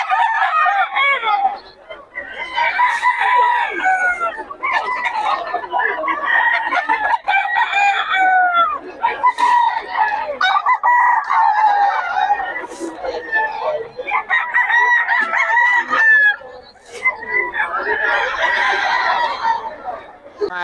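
A Boston Sweater gamefowl rooster crows repeatedly at close range in Bocaue, its long calls running under and between people chatting nearby.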